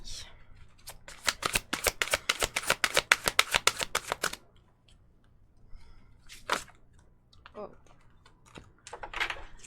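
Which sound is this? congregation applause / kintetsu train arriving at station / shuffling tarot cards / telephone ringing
shuffling tarot cards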